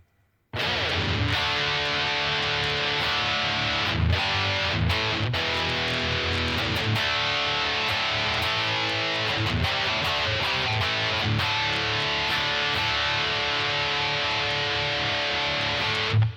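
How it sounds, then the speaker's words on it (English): A distorted electric guitar on the bridge pickup plays a riff alone, loud and sustained, with sharp chord attacks and ringing, gritty tones for the whole stretch. "let's see what kind of distorted tones we can get out of this thing"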